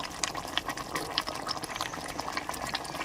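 Egg curry with fried eggs and garam masala bubbles and simmers in a pan, a close, steady crackle of small popping bubbles with no talk.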